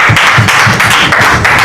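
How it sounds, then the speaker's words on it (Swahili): Audience applause at a Bungoma law courts stakeholder forum on the small claims court, a steady, loud burst of many hands clapping that carries through the whole moment with no talking over it. "Pigia makofi wanapoketi"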